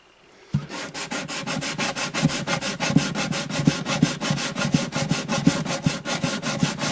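Rhythmic back-and-forth light sanding on a rosewood guitar bridge of an Alvarez Artist AD65, a steady rasping scrub repeating about four strokes per second, close and fairly loud, with no voices.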